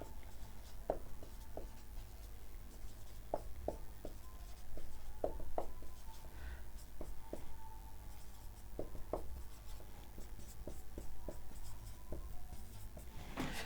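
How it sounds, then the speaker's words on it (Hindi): Answer options for a ratio problem written by hand, heard as a steady run of short scratching pen or chalk strokes at close range, with no talking. "हम तब तक ऑप्शन लिख लेते हैं"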